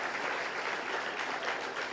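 An audience at a Franklin County community gathering applauds steadily for Shaquille, a dense, even wash of clapping from a moderately distant crowd that holds level throughout with no voices on top.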